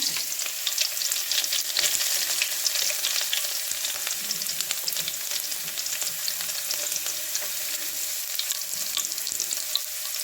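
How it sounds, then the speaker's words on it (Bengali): Chopped garlic sizzles in hot oil in a wok, a steady bright crackle that stays even throughout with faint stirring scrapes and no talking. "তো প্রথমে কড়াইতে আগে রসুন কুচি দিলাম"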